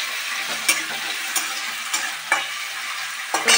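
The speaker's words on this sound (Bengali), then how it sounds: "তেল গরম হয়ে গেছে কড়াইতে। প্রথমেই আমি দেব পেঁয়াজ কুচি, পেঁয়াজের ভিতরে আদা লঙ্কা কুচি" Chopped onion, ginger and green chili hiss in hot oil in a wok, a steady close sizzle broken by several sharp scrapes and clanks of a stirring spoon, no voices.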